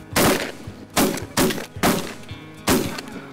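Five sharp shotgun blasts fire in an irregular rhythm, loud and close, during a duck and goose hunt with birds flying overhead. No voices are heard between the shots.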